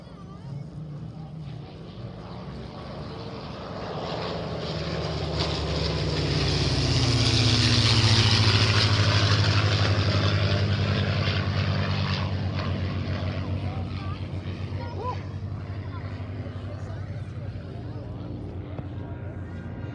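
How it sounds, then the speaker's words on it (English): Propeller aircraft make an air show flyby, a droning engine roar that swells from a distance to a loud peak and then fades slowly away, with a faint voice underneath. "Get all of our aircraft in for a few flybys."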